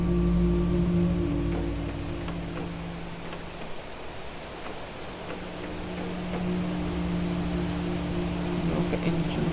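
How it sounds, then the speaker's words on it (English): Heavy rain pours down in the survival game The Planet Crafter, a dense steady hiss that holds throughout with low electronic tones humming beneath and no voices. "here comes that loud rain again"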